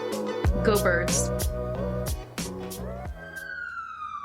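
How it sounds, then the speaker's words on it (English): A police-style siren wails past on a New York City street, loud and close with rising and falling tones, then falls away into the distance. "Of course I started to film when there's a siren going by"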